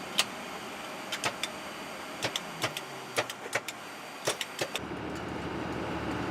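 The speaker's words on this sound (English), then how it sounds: "While the generator pumps out the necessary 115 volts AC" A ground power generator runs beside a Boeing 707 airliner, a steady broadband drone punctuated by scattered sharp clicks and ticks, before the tone shifts near the end.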